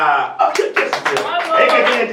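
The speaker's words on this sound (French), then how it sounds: "Mais applaudissez pour Sarah, applaudissez." An audience claps for Sarah, the winner of a quiz contest at a charity event for orphans, with a few scattered hand claps and a voice speaking loudly over them.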